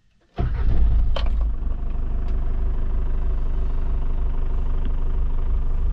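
Mitsubishi Pajero engine cranks and catches, then settles into a loud, steady idle close by with no talking over it.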